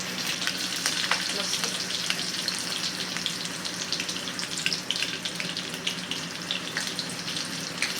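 Slit green chillies frying in hot oil for vada pav chutney, a continuous close, crackling sizzle with faint spattering pops throughout and no talk.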